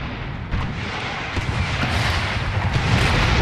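Musket and cannon fire rolling continuously across a battlefield in Empire Total War, a dense, steady roar of overlapping shots with scattered sharper cracks and no voices.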